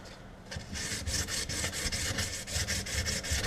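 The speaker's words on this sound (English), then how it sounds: "220 sandpaper." 220-grit sandpaper rubbed over a gun's wooden stock during a repair gives a close, continuous rasping scrape with rhythmic back-and-forth strokes and no voices.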